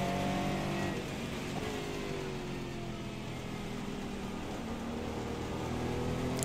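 A race car lapping Spa-Francorchamps gives a steady, loud engine drone with shifting harmonic whine, heard close throughout with no voices.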